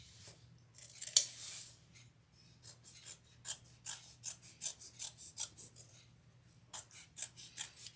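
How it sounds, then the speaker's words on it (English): Small duck-billed scissors snip close and quiet in a quick string of crisp cuts, with a few pauses between bursts. "let me get my duck scissors"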